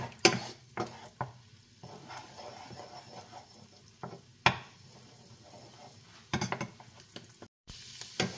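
Canned mushrooms frying with garlic in butter and a little oil, a low continuous sizzle broken by repeated scraping and knocking of a spatula against the pan, some louder stirring bursts spaced throughout.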